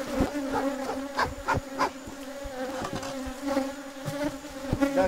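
Honey bees buzz densely around hives during a colony split, a close, continuous droning hum with individual insects rising and falling as they fly past, with no talk.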